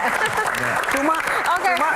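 Studio audience applauding at a live Indonesian talk show Q&A, a steady wash of clapping with voices talking over it throughout.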